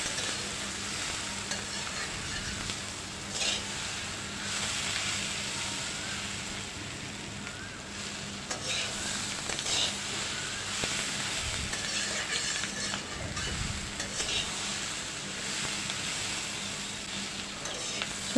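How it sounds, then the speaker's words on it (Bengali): Chickpeas cooking as chola bhuna with coriander leaves stirred in, a continuous close sizzle and frying hiss with occasional spoon scrapes against the pot. "এবার একটু ভালো করে ধনেপাতাটা আমি মিশিয়ে নেব।"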